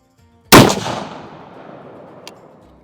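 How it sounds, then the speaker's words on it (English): A single loud rifle shot fired at a shooting range while sighting in a hunting rifle, a sharp close crack followed by a long decaying echo, with a faint click near the end. "Shoot a couple more, confirm it before I make a move."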